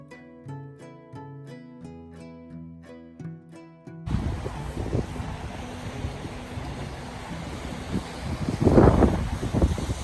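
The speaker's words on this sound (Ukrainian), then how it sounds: "Я залишила той кадр, щоб ви побачили, наскільки сильним був вітер" Soft melodic notes play alone for a few seconds, then a loud rush of cold winter wind in Canada takes over, roaring steadily with a stronger gust buffeting the microphone near the end.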